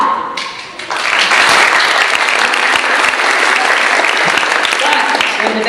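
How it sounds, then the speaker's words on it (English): A theater audience at a melodrama breaks into sustained, loud applause, dense clapping that swells after a brief lull and carries on steadily throughout. "when the heroes or heroines come on stage, we applaud"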